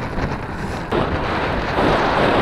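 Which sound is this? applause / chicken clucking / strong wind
strong wind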